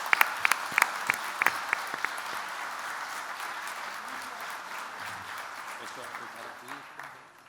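Audience applause at a business luncheon greeting the Minister of Public Health, dense steady clapping that begins with a few sharp claps, fills the room, then fades out near the end.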